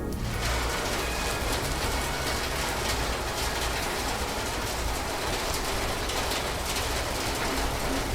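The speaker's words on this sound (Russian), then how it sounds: "Включаю шум дождя." Dense, steady rain hisses continuously, a full wash of drops with no pauses and no voices.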